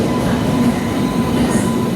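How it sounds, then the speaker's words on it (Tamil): A train pulling into a station in India, a loud steady rumble of wheels and carriages close by with a faint squeal, no talk. "ஏதோ ஒரு ட்ரெயின் வருது"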